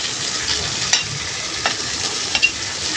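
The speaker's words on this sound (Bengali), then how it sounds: "সব দিয়ে নেড়ে চেড়ে মশলাটাকে ভালো করে কষিয়ে নিব" Spice paste of ginger, garlic, chili, coriander, turmeric and cumin sizzles steadily in a pan while a spoon stirs it, with a few sharper scrapes standing out over the continuous frying hiss; cooking for cow brain fry.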